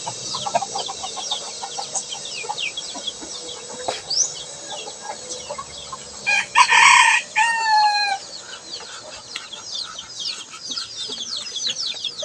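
A fighting rooster crows outdoors in the hills, a clear loud crow midway among a busy background of small birds chirping, with other fowl clucking faintly nearby.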